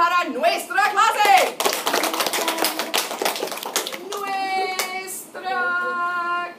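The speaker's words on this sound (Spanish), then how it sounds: "un aplauso para nuestra clase" A Spanish class of children claps and cheers briefly amid excited voices, followed by more chatter and whooping.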